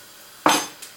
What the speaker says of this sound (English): And give that a nice stir.